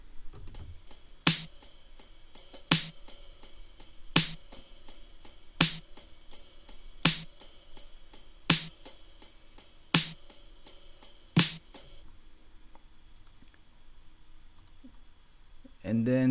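Programmed drum beat built in Ableton for a chill track, with sharp, evenly spaced open hi-hat ride hits about every 1.5 seconds over a faint background, stopping after about twelve seconds.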